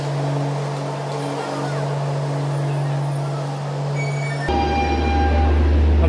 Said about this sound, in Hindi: यहाँ पे देखिए ये पूरा ट्रेन, ये देखिए ट्रेन खड़ी है सामने